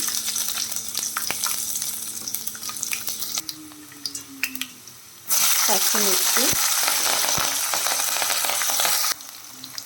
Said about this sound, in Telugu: ఆవాలు, జీలకర్ర వేసుకోవాలి. అవి కొంచెం వేగిన తర్వాత మనం వేసుకున్న వెల్లుల్లి